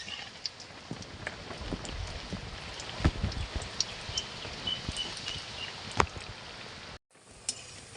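Potato chops deep-fry in a karahi of oil with a faint, steady bubbling hiss, crackling pops and a few sharp spits, and a brief cut near the end. No voices are heard.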